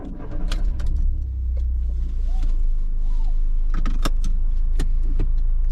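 A 2010 Volkswagen Fox iMotion automatic car setting off, with a steady low engine hum inside the cabin, a few sharp clicks and knocks, and faint voices in the background.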